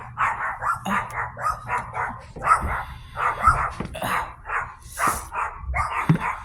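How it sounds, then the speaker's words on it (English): Dogs barking repeatedly outdoors in a spring garden, in a steady, insistent rhythm, fairly close, with a low background hum. "They're barking at absolutely nothing."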